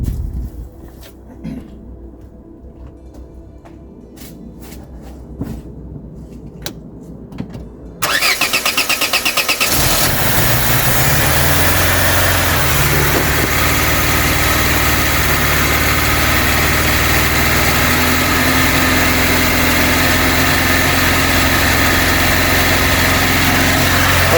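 A Vauxhall Cavalier MK2 engine with a freshly rebuilt carburettor cranks and catches after a few quiet clicks. It then settles into a loud, steady idle close to the listener that runs on for the rest of the clip.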